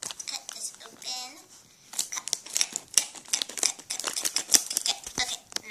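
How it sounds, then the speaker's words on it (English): Scissors snip and crunch through a plastic Hot Wheels toy package from a McDonald's meal, a run of quick close cuts and crinkles, with a soft voice heard early on. "But we're going to need scissors! So let's cut it open."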